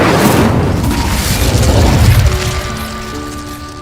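A fiery spell blast from Incendio in the video game Hogwarts Legacy, a loud booming burst at the start that rumbles on and slowly fades into a sustained ringing tone.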